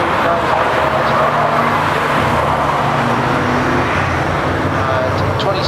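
Vans race in a demolition derby at Arlington, with a constant loud roar of engines and crowd-like noise while a commentator talks over it.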